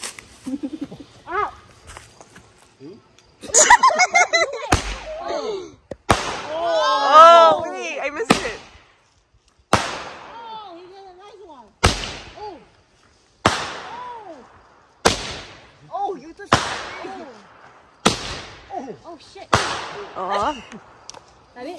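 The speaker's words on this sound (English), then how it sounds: "that's why I buy the fireworks" Fireworks shots at a night campsite, a series of about eight sharp bangs spaced roughly every 1.5 seconds, loud and close, each followed by a short crackling tail, with people talking and shouting between and over the blasts.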